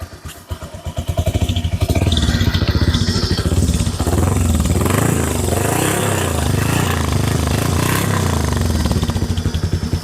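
A Discover motorcycle engine idles loudly up close, a steady throbbing putter with slight rises in pitch, continuing without pause and no voices.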